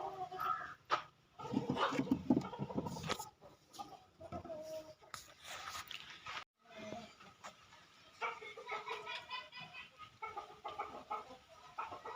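Several chickens cluck and squawk close by in a poultry shed in irregular bursts, with a rooster-like call and scattered fowl chatter throughout.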